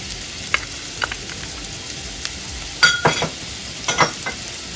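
Green peppers frying in a pan for baked ziti, a soft steady sizzle with a few louder stirring scrapes and crackles in the second half, close and moderately quiet.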